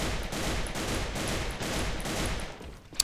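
AK-12 rifle fired in a video game in rapid repeated bursts, a dense, loud stream of close shots with brief gaps between bursts over about three seconds.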